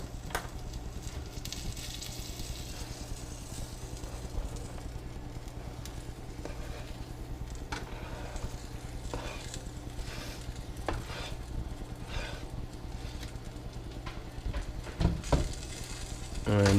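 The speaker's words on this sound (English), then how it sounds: "we'll just get these onions mixed in with the peppers so that they're both all coated pretty generously in avocado oil. And we're just going to stir and let these guys cook" Chopped bell peppers and onion frying in avocado oil in a pan, a steady soft sizzle with occasional scrapes and clinks of stirring, moderately quiet and close.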